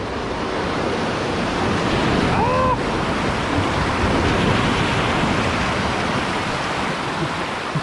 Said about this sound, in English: there's a giant wave from this cruise ship coming